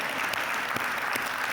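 Conference attendees at a city management gathering applaud in a brief, dense burst of clapping.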